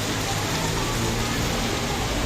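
Heavy rain pours in a dense, constant roar with no breaks from start to finish.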